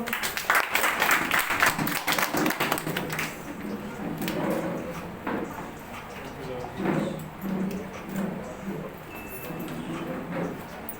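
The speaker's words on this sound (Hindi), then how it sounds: "जोरदार ताली बजाएंगे सब लोग।" A loud burst of dense applause from a conference audience at a Christian worship event in Goa fills the first few seconds, then thins out as a speaker's voice takes over.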